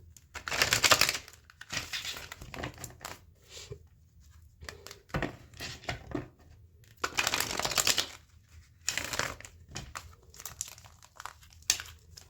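Oracle cards shuffled up close, crisp papery riffles and crinkling flicks coming in uneven bursts with short quiet gaps, louder clusters near the start and middle, with no talking.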